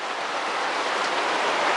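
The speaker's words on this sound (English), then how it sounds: "please bear with any rain noise you hear in the background" Steady rain hisses continuously in the background as a CB750 chopper is worked on, an even wash of noise with no talk.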